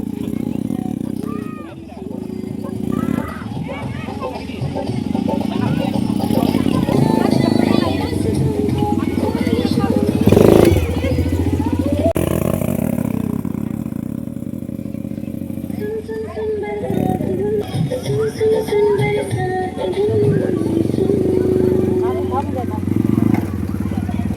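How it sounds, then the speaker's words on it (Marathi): A dirt bike engine drones and revs steadily at a family picnic spot in Peruchi Wadi, with people talking and crowd chatter over it the whole time. "इकडे डर्ट बाईक आहे"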